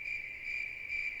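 Crickets in the game Lunar Eternal Blue chirp in a steady, loud, continuous shrill trill with a slight pulsing swell, heard alone without voices.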